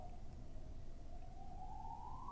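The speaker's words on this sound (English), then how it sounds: "Now there's a siren." A single siren wails steadily at a distance, its tone holding level and then slowly rising, faint over a constant low background rumble with no voices.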